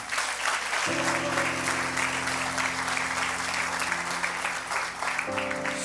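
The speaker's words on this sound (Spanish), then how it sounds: "Dale un fuerte aplauso al Señor." Church congregation applauding, a dense continuous wash of clapping throughout with sustained musical tones from keyboard or organ underneath.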